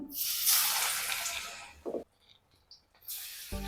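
Palak chana dal vada frying in hot oil, a loud spraying hiss that fades out, then near-silence with small drips and pops before another burst of sizzling begins.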